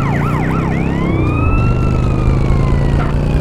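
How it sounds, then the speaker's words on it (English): Police siren in GTA San Andreas during an underground mod chase, loud and close: a fast wailing yelp that swings into long rising and falling wails over a constant engine and traffic drone. "It's an undercover police car."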